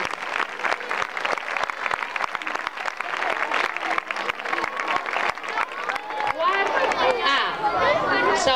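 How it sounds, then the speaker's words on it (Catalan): Applause at a school floral games poetry event, a rapid patter of many hands clapping with crowd chatter mixed in, giving way to excited children's voices toward the end. "Molt bé, un fort aplaudiment."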